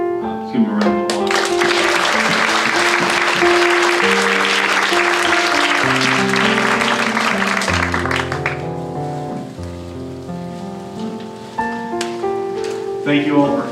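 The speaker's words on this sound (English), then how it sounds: "Let's give them a round of applause." A burst of applause from an audience at a candidates forum, steady clapping that swells then tapers off, with voices speaking over and after it.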